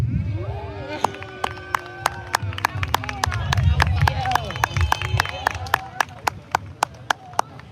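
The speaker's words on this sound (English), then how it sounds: "Clap it up for JD." An open mic audience claps for a poet. Scattered claps build into applause, then thin to sharp single claps, while a voice hums or sings over the start.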